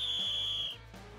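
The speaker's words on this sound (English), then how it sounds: "Let's enter the final whistle." A loud, steady referee's whistle blast sounds alone for about three quarters of a second and then cuts off, marking the end of a rugby match.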